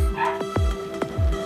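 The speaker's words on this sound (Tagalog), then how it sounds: "may kakata yung aso sa kapitbahay" A neighbour's dog barks repeatedly, four or five sharp yaps in quick succession, fairly close, with a steady tonal hum in the background.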